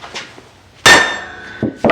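A hammer strikes a metal rod with a few light taps to make a centre mark, then one sharp, ringing metallic blow, followed by two more close, clear impacts.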